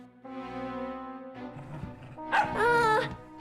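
A cartoon dog yelps and barks in a few high, whiny bursts, loud and close, the sounds rising into a shrill, wavering yip at the end.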